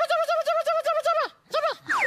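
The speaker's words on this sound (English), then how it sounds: "There's the kookaburra laugh coming from over there again." A kookaburra's laughing call comes as a rapid run of bright, repeated hooting notes that rise and fall. It breaks off briefly, then bursts back with a few more notes, loud and close.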